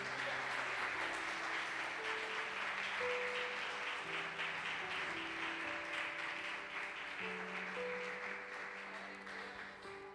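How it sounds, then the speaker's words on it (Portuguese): A church congregation applauds steadily for about ten seconds, dense clapping with sustained organ or keyboard notes beneath, slowly fading toward the end. "Você pode aplaudir o Senhor por isso?"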